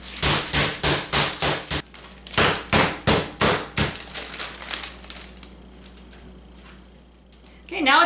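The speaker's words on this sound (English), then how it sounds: "Now you're supposed to have fun and beat these to about 1/4 inch thick" Chicken breasts pounded thin for schnitzel, with rapid rhythmic thuds in quick bursts of about a dozen heavy blows, close and loud, then tapering off into quieter hits.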